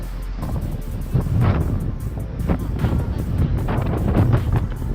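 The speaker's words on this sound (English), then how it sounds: "It's summer here and it's so windy and I'm freezing right now." Strong summer wind in downtown Madison, Wisconsin buffets the microphone in a steady low rumble, with gusts swelling and fading throughout and faint voices mixed in.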